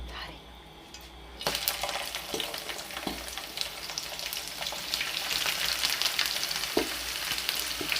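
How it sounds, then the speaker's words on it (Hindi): Onions drop into hot oil and burst into a sizzle, then keep frying with a continuous close crackle and occasional stirring clicks. "तो यहाँ पे हम इसमें अपनी प्याज जो है वो ऐड कर देंगे।"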